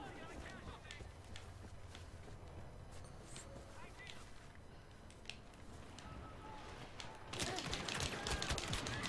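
Pistol fire from a Star Wars Battlefront shooter game comes as sharp, scattered blaster-like shots over a busy battle bed, swelling into a dense, loud burst of fire near the end.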